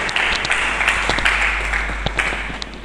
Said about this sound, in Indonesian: sambut firman Tuhan dengan berikan tepuk tangan bagi Yesus Kristus.